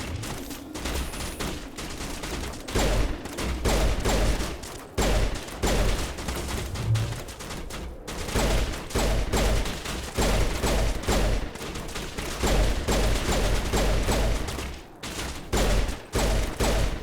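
Dense, sustained gunfire from the Mass Effect 1 video game, rapid bursts of shots crackling continuously with brief gaps, loud and up close throughout.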